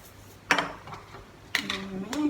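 Onions and salt mixed in a bowl for kachumbari, giving two sharp clinks of a utensil against the dish followed by scraping and stirring, with a faint voice murmuring.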